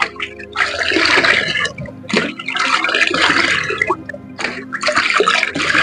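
Water swishing and splashing in a container as Dettol is stirred into ten litres of water for a pigeon bath, sloshing in repeated close bursts with short pauses between strokes.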